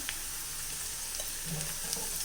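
Chili powder frying in oil with onions and green chilies, a steady soft sizzle held at an even level throughout with faint stirring, and no voices.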